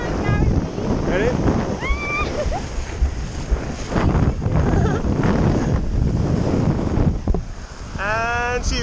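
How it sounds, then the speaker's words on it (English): Strong, gusting wind roars across the microphone on a beach during a kiteboarding session with a 9-meter kite, a steady loud broadband rush throughout, with voices talking and calling out over it. "it's windy, super duper windy"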